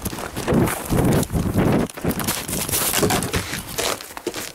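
A moose moves through a yard, its heavy footfalls thudding and crunching in uneven bursts close to the microphone, with rustling and handling noise between steps.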